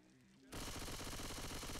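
Rapid automatic gunfire in the zombie shooter Left 4 Dead 2 bursts in after a quiet half-second and continues as a loud, unbroken rattling stream to the end.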